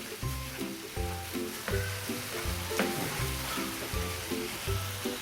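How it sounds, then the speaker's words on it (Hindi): Masala with whole red chillies frying in hot oil, an even close sizzle broken by rhythmic scraping strokes of a spoon across the pan at roughly regular intervals. "अब इसको तकरीबन 2 मिनट के लिए भून लेंगे मसाले को स्पाइसेस के साथ।"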